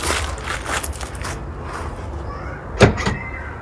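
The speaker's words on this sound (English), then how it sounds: "And there we go, we just opened up the boot of this Ford Figo." The boot of a 2015 Ford Figo Ambiente is released with the interior button. A single sharp, close latch thunk comes near the end, after a quieter stretch of background noise.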